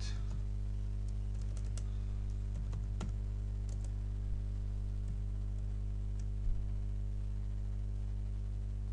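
Sporadic, faint clicks of typing on a computer keyboard while entering C++ code, scattered taps over a constant low electrical hum.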